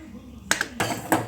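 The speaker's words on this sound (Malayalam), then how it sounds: "ഇനി വേറെ ചട്ടി വെക്കാം കേട്ടോ നമുക്ക്." A metal pan clanks down onto a stovetop in a few quick, sharp knocks, close by.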